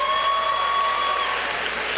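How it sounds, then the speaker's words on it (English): Sustained audience applause for a speaker named Juan at a talk to students, a dense steady wash of clapping with a brief whistle-like tone through the first half. "Give Juan a round of applause."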